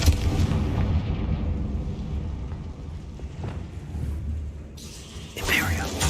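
A Confringo fire spell explodes in the video game Hogwarts Legacy: loud, sustained rumbling blasts roll through the scene, easing off in the middle before a fresh bright burst erupts near the end.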